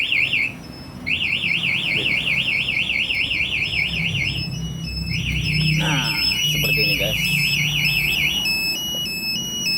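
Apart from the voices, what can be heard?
motorcycle anti-theft alarm sounding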